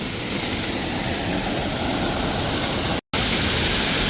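Roaring waterfall in a tropical rainforest setting, a dense, steady broadband rush heard up close and loud, with one brief dropout near the end.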